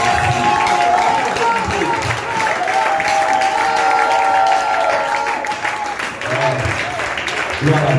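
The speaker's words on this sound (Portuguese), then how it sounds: "Vamos aplaudir mais uma vez" Church congregation applauding together at a worship service, a dense sustained wash of clapping with crowd voices and singing underneath, steady and loud throughout.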